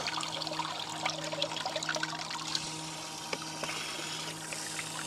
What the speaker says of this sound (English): That is a good flow of water as well.